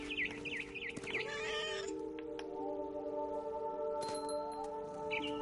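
A cat meows several times, a quick run of rising and falling cries in the game What Remains of Edith Finch, over a soft sustained musical score with faint birdlike chirps.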